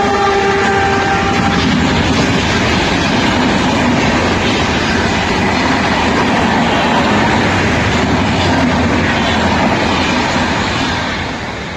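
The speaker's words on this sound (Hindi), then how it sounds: "ट्रेन आ रही है" Train rumbling past at close range with a loud, steady roar of rolling wheels and carriages, a horn sounding briefly at the start, the noise tapering slightly at the end.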